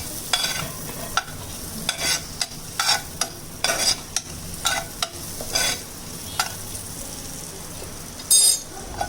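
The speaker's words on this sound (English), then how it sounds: "Let it saute a little" Vegetables for a chicken meatloaf sauteing in a pan: a soft continuous sizzle broken by frequent clinks and scrapes of a utensil stirring against the pan, irregular and close, with no one talking.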